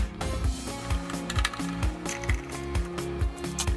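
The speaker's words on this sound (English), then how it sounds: "Unscrew all the fixed screws." Screws being unscrewed from the cover and base of a HOROW T37 smart bidet toilet seat, most likely with a ratcheting screwdriver, giving a steady run of close, rhythmic ratchet clicks and gear-like ticks with no talk.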